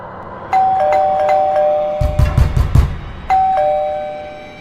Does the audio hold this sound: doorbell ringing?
yes